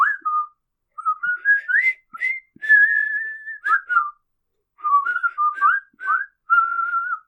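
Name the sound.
group of soldiers whistling a march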